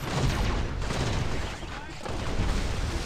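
Dense gunfire and explosions in the Halo video game, a continuous loud roar of shots and booms filling the whole stretch with a brief dip midway.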